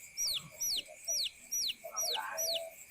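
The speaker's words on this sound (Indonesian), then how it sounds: "Kayaknya ada suara ayam ini." A chicken clucks in a quick repeated pattern, about six short calls with a steady rhythm, close by and fairly quiet over faint background noise.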